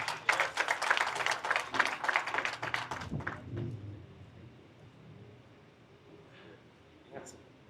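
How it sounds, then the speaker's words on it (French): Audience applause at a World Sickle Cell Day ceremony rises as a dense burst of clapping for about three seconds, then fades quickly into a quiet room with faint background noise. "sous vos applaudissements, s'il vous plaît"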